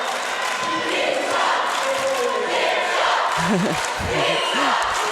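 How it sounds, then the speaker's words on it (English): Roller derby fans at a World Cup bout between Finland and Belgium cheer and shout loudly in a sustained crowd roar, with a commentator's voice heard over the noise. "Fans for hip shot are loud"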